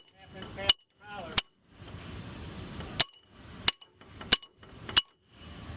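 A hammer strikes a pin out of a JLG telehandler's primary lift hydraulic cylinder, six or seven sharp metallic clanks at irregular intervals over low background rumble and faint talk.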